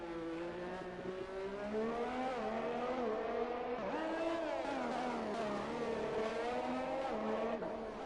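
Racing cars in the F1 2021 video game at Azerbaijan, steady high-pitched engine whine with rising and falling revs as tyres are warmed, continuous and loud without talk.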